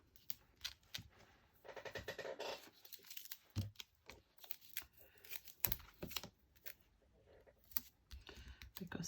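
Double-sided foam tape is peeled and pressed onto a journal page, giving close, quiet bursts of tearing, crinkling and tapping in irregular clusters.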